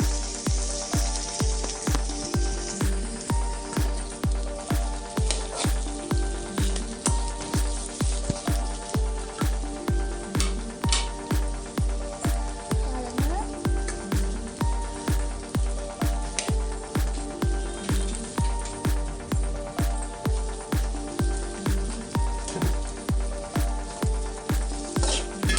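Pieces of elephant yam fry in a pan with a steady, close sizzle. A regular thumping pulse repeats about twice a second the whole way through, and there is no talk.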